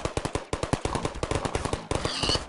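Rapid bursts of automatic gunfire from a Portal turret in a modded video game, close and loud, rattling in quick repeated volleys with a brief pause partway through.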